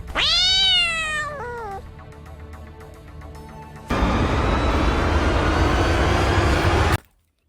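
A cat meows loudly and close several times in the first two seconds, with rising and falling wails, followed by a quieter stretch and then a loud broadband rush of noise that cuts off abruptly.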